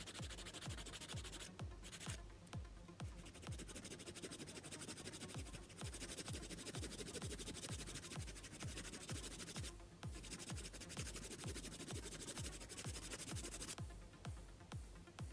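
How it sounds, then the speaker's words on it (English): A nail file scrapes the edges of acrylic nails in quick, repeated rasping strokes, faint and close, with brief pauses between bursts. "I'm just going in with my file again"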